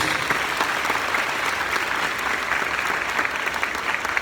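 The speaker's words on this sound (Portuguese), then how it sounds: "Aplauda a Mãe de Deus." A church congregation applauding during a Portuguese-language worship service, a dense, even wash of clapping hands that holds steady and moderately loud from start to finish.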